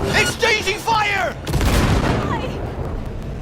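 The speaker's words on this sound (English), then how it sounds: "Exchanging fire!" Bursts of gunfire in a firefight in Cyberpunk 2077, set in Night City, with sharp cracks and booms following excited game dialogue; voices speak during the opening second and a half.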